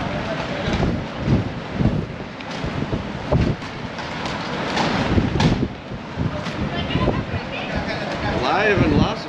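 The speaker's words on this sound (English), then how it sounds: "Yeah, it's a little windy." Gusty desert wind from a Las Vegas windstorm roars and buffets the microphone in loud, uneven surges, with people talking over it throughout.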